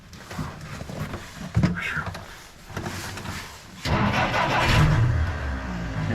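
A Willys M38A1 jeep engine cranks with uneven thumps, then catches at about four seconds and settles into a steady rumbling idle close by. Faint voices are heard around the start.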